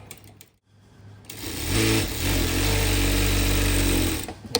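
A SHUNFA S510+ sewing machine backstitches in one loud, fast burst of stitching that lasts about two and a half seconds. A few faint clicks come before and after it.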